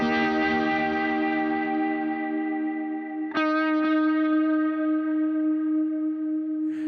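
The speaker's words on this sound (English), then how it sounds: "we actually switch back to that quarter and that light to medium delay, but we add a vibrato on top of that." Electric guitar through a light-to-medium quarter-note delay with gentle vibrato, a sustained chord ringing with a wavering pitch, then a second strum midway that rings out and repeats softly.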